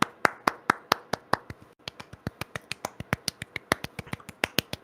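A small group gives a quick round of applause for a guest named Bill, sounding as sparse, crisp individual claps in a fairly regular rhythm, close and distinct rather than a dense crowd roar.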